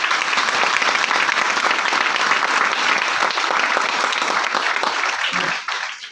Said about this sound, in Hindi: तो एक तालियां सेफ शॉप के लिए बजा दी।